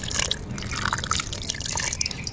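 Water is poured in small amounts into a jalebi batter of flour and yogurt, giving close, continuous liquid trickling and splashing with soft wet mixing sounds underneath.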